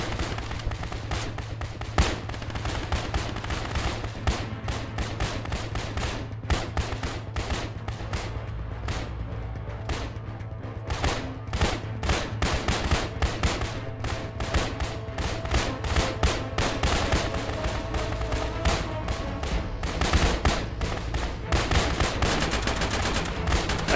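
Sustained gunfire from a firefight in the military shooter ARMA, dense overlapping rifle and machine-gun bursts rolling continuously with a steady low rumble beneath, loud and relentless throughout.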